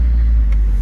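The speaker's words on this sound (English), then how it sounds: "I'm gonna take the truck forward for you" A truck engine rumbles loud and close with a deep, steady low drone as the vehicle creeps forward during alley-docking practice, continuous with no voices.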